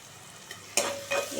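Asafoetida tempering hitting hot oil in a frying pan for a potato and leafy greens fry, a soft sizzle that flares up suddenly partway through and keeps crackling, with a faint stir sound, close and alone.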